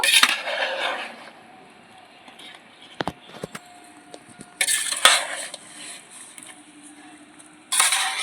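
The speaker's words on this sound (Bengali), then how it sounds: "ভালো করে আমের সাথে মিশিয়ে নেব" A spoon scrapes and stirs raw mango pickle in a pot, with a few sharp metallic clinks and soft scraping bursts separated by quieter gaps. The sounds are close by.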